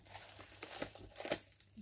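Paper envelopes holding diamond painting kits are handled, soft close crinkling and rustling in a few brief bursts, with no talking.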